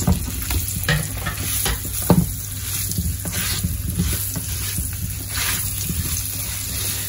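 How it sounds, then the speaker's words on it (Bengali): Paneer pieces dropped into hot oil sizzle and crackle steadily in a home kitchen pan, with occasional stirring clinks and scrapes. The frying is close and continuous, with no talking over it. "আমার তেল গরম হয়ে গেছে আমি এখন পনির ছেড়ে দিব"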